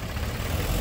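Rumbling diesel engine of a JCB excavator pulling away on wet ground, a loud low steady drone close by with no voices over it.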